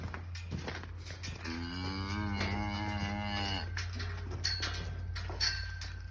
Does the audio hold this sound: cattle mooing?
yes